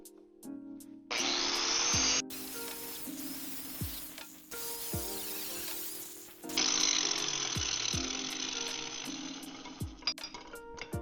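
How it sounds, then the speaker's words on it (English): Power grinder stripping paint off a metal tractor seat part before welding: several loud, harsh grinding bursts, each ending in a falling spin-down whine, separated by short pauses, up close in a workshop. "I'm grinding all of the paint off so that I can make a good weld"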